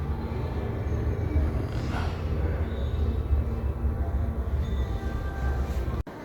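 Passenger train rumbling steadily at a station, a continuous low heavy roar with some brief higher scraping, loud and close throughout.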